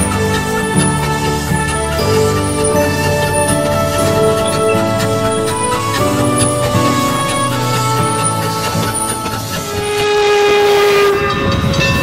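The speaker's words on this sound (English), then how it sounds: "You hear that train whistle sooner than it hears itself." A loud, sustained steam locomotive whistle from Norfolk & Western 475 blows with harmonic tones over the rumble of the passing train, shifting pitch near the end.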